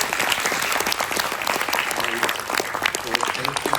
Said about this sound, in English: a round of applause to everybody who worked so hard.